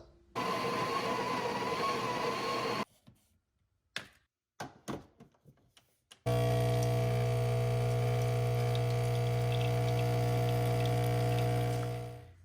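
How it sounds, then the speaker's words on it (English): An espresso machine pulls a double shot: a loud steady pump hum with grinding rattle at first, then a few quiet clunks and taps, then a long, even, droning brew that fades out at the end. "Let's make some espresso"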